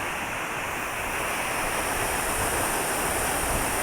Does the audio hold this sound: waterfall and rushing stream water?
yes